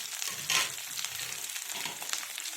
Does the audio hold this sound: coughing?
no